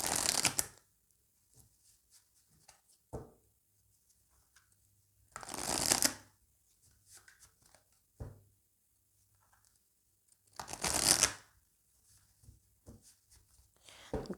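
Oracle cards are shuffled in several short bursts of riffling and sliding, close and crisp, with quiet pauses in between.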